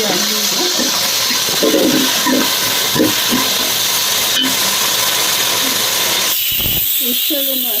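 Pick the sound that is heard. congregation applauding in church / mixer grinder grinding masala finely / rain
mixer grinder grinding masala finely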